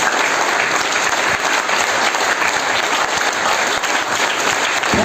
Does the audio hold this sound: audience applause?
yes